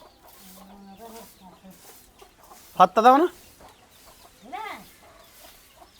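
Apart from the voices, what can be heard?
chickens clucking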